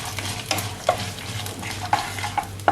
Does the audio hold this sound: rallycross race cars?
no